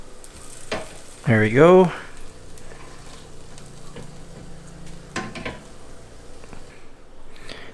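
Bacon cheeseburgers in an air fryer basket crackle with a steady close sizzle as they are turned over, with soft clunks of handling and a short spoken remark early on.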